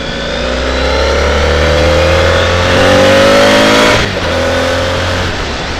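A motorbike engine pulls steadily while riding on a commute, holding a loud, continuous drone that swells toward the middle of the run, dips briefly, then carries on, with no talking over it.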